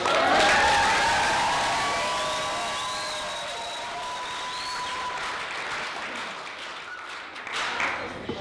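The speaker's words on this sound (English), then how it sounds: "Can I give a round of applause for how beautiful the bride looks tonight?" Wedding guests applaud the bride at a reception, a broad wash of clapping and some cheering that is loudest at the start, then fades under music with sustained tones.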